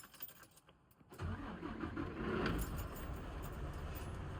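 A truck's engine cranks briefly during a pre-trip inspection, then catches and settles into a loud, steady idle heard up close from inside the cab, after a few quiet seconds of keys and small clicks.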